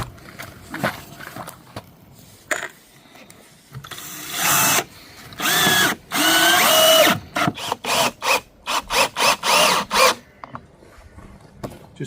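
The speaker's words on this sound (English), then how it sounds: "Just putting a screw in the outer planks just to hold it all together" Screws being driven into the outer wooden planks of new cottage shutters: a run of loud, close, whirring bursts that come faster and shorter toward the end, with no one talking.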